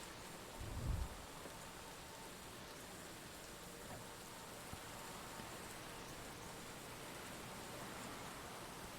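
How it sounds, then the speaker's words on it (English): Rain from CrossCode falls as a soft, continuous hiss of steady downpour, quiet and even, with a brief low rumble near the start and no speech. "Listen to this rain sound effect."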